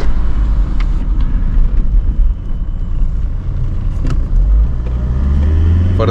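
A 1997 Volkswagen Passat B5 Variant 1.9 TDI 110 hp diesel engine rumbles steadily from inside the cabin during city driving, a heavy low drone with a few faint clicks and knocks over it.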